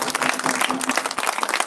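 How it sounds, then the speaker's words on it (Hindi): A church congregation at a prayer and deliverance service claps hands in a dense, steady patter of many hands, moderately loud and brief with no talk over it. "ताली बजाओ"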